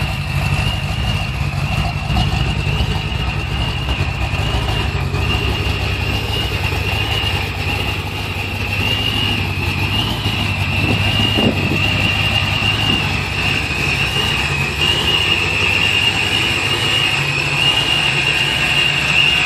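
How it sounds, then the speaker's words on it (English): A procharged 331 engine in a 1990 Ford Mustang convertible idles after a cold start, a steady, loud low rumble with a persistent high supercharger whine running unbroken throughout, no talking. "All right, cold start of the car,"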